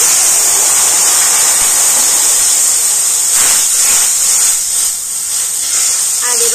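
Water poured onto ginger-garlic paste and ground spices frying in hot oil in a pan, a loud continuous hissing sizzle that swells with steam, with a voice speaking briefly over it.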